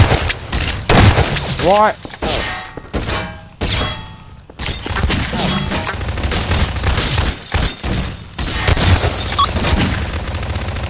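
Gunfire and crashing impacts in the video game Garry's Mod Prop Hunt, with dense overlapping shots, bangs and clatter running throughout, loud and close, while several players talk over the top.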